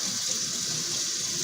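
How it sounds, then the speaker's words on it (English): A kitchen tap runs cold water in a steady, continuous hiss with no break and no voices. "And what we're going to do is turn the cold water on."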